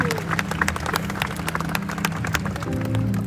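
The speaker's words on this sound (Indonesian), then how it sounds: "Kasih tepuk tangan dulu buat mereka." A church audience at an evangelistic service claps, a brisk patter of many hands rising and falling under the hall's low hum, with no voices above it.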